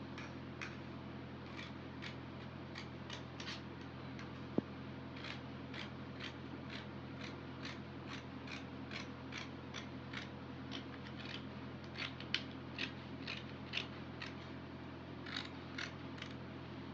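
Scissors snip through fabric for a kaftan dress with sequins at the front, producing a quiet, steady series of crisp clicks in an even rhythm, with no talking.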